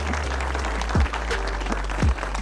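An applause sound effect plays within a Hindi/Urdu 3D modeling tutorial: a short burst of clapping mixed with low thumping beats, steady and fairly loud throughout.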